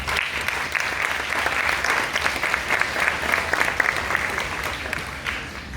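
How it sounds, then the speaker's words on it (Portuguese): Audience at a school oratory ceremony applauds, a dense continuous round of clapping that holds steady and fairly loud for several seconds with no talking. "Muito obrigada e o nosso aplauso."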